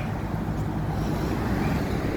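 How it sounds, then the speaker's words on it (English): Steady broadband traffic rumble of a couple of cars going by on a town main street, continuous and fairly loud with no voices. "A couple cars going by."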